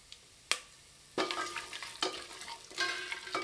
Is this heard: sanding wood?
no